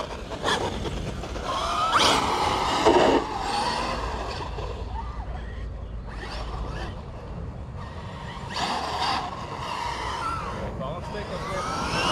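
A Traxxas XRT RC truck in Beetle body accelerates around a track, its electric motor whining and rising in bursts with a squeal of tires, fairly close, while someone talks over it.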